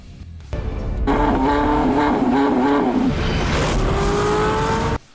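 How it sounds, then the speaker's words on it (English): A naturally aspirated 612-horsepower 4.6-liter V8 in a hybrid hypercar, breathing through top-mounted exhaust pipes, roars loudly up close, revving high and sliding in pitch before settling into a sustained howl that cuts off abruptly. "The petrol engine, which sounds ungodly through those top mounted exhaust pipes"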